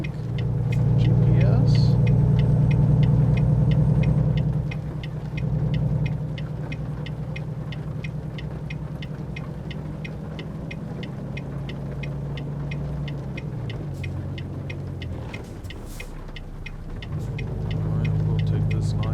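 A heavy truck in American Truck Simulator labours to accelerate with a deep, droning engine rumble that shifts pitch as it gears up, while someone talks over it and a brief navigation voice chimes in.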